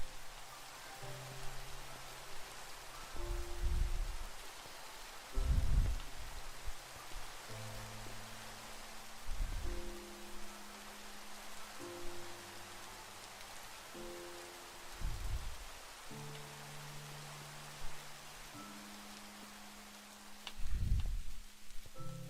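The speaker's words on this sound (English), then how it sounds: "At least the rain's now done." Steady rain falling in the Minecraft video game, a soft continuous patter that fills the background while low in-game tones and occasional deep thumps sound intermittently over it.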